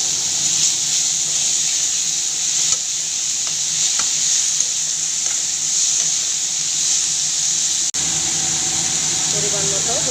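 Grated onions sizzle in hot oil with chopped tomato and slit green chillies for tilapia do-pyaza, a steady loud frying hiss lasting throughout with faint stirring; a voice may be faintly present.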